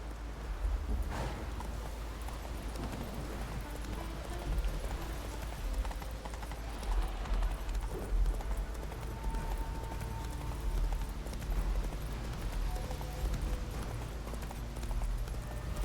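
Horse hooves clip-clopping at a gallop in the Witcher 3 video game, a steady, loud rhythmic pounding that continues throughout over low game ambience, with no talking.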